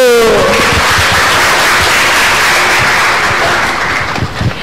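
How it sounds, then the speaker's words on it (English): A seated audience claps for a performing trio at a university faculty event: dense sustained applause that starts right away, holds steady and then thins out near the end, with a faint tone fading at the very start. "give applause for our wonderful trio"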